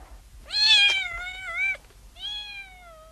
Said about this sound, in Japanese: 猫がいます。